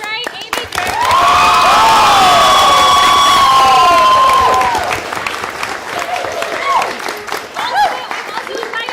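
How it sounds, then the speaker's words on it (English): Theatre audience at a new-works play festival night bursts into loud applause with cheering and whoops, a sustained roar peaking for several seconds before easing into steadier clapping with scattered shouts. "One more big round of applause for the Spillville."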